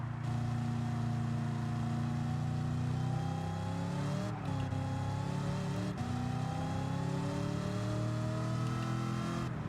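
An old muscle car engine in the racing video game Gran Turismo 7 drones and revs steadily, pitch rising and falling through gear changes, loud and continuous with no voices.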